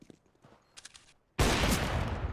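Loud burst of automatic gunfire in CS:GO, a sustained close rattle of rapid shots that erupts after a few seconds of quiet game clicks and footsteps.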